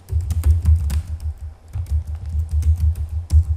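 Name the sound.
typing commands on a computer keyboard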